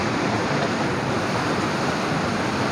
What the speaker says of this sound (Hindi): बहुत तेज़ी नाल पानी चलता पाए।